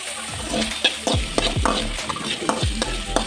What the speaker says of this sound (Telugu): ఆనియన్స్ అనేది మంచిగా ఫ్రై కావాలి